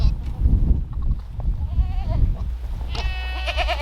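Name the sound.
goats bleating in a pen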